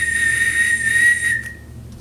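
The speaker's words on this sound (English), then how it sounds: "Meanwhile, Reneus is at the station, asleep, when he is woken by the whistle." A narrow gauge steam engine's whistle sounds at a station as one long, loud, steady blast lasting over a second, then cuts off and fades, with no talking.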